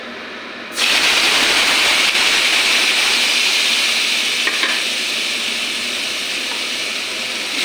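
Spice tempering hits hot oil for a potato and cauliflower vegetarian dish, a sudden loud sizzle that bursts in and holds as a steady hiss, with a couple of faint stirring clicks, close by.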